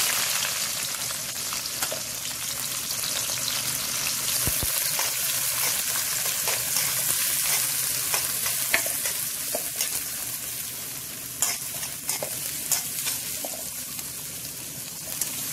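Onions sizzle and crackle in sesame oil for a crab curry masala, a steady close frying hiss with occasional stirring scrapes and pops throughout.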